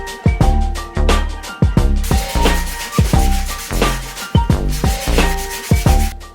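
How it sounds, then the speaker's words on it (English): A 3D-printed DIY Pokeball is sanded to remove layer lines, with rapid rhythmic back-and-forth rasping strokes, steady and close, repeating about twice per second with no voices. "we begin sanding to remove the layer lines and allow for a smoother painting surface"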